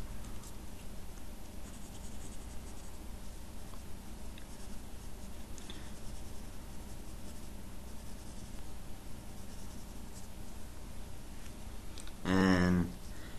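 A pencil sketches a futuristic manga-style rifle on paper, a soft continuous scratching close by with a faint hiss beneath, and a short louder scrape near the end.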